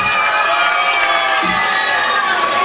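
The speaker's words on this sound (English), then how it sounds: "Give Gaynor a big round of" A live-music audience at a 2006 show in Hendra, Wales, cheers and applauds loudly in a continuous crowd roar with shouts and whistles mixed in.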